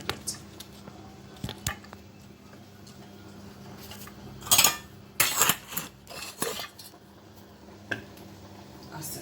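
Okpa batter is stirred in a pot as hot water is poured in gradually, giving wet squishing and scraping with occasional clinks of spoon on pot, loudest in a few bursts midway.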